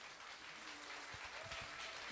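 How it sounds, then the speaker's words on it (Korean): Audience applause at a humanities lecture-and-performance concert after crossover and jazz vocal sets, a steady quiet wash of clapping with a few nearer claps standing out, no talking over it. "뜨거운 박수 부탁드리겠습니다"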